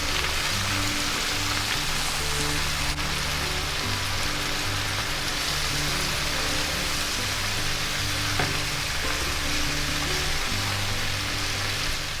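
Vegetables sizzle in a pan of hot oil right after shrimp was fried in it, in a home kitchen. The sizzle is a steady, dense hiss that runs the whole time, close and alone with no talking.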